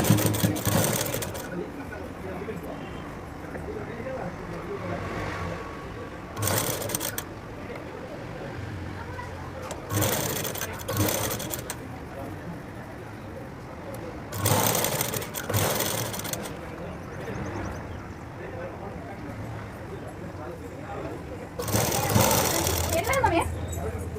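A sewing machine stitches blouse fabric in loud bursts of mechanical whirring, each a few seconds long. Quieter pauses separate the bursts, and a low room hum continues throughout.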